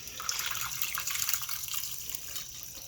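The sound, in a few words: draining liquid from cooked beans into a bowl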